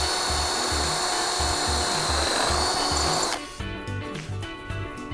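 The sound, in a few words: drilling a mounting hole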